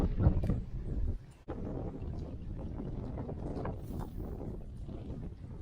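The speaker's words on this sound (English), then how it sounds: "It's just too much wind everywhere." Strong, howling wind on a bridge in Nebraska during fishing, a steady roar with buffeting gusts across the microphone and a brief dropout in the middle.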